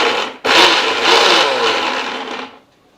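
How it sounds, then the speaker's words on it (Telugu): A kitchen mixer grinder pulsing garlic and salt for mango chutney, a loud close whirring burst of about two seconds that starts sharply and then winds down into quiet. "మన వెల్లుల్లి మిక్సీ కొట్టాము."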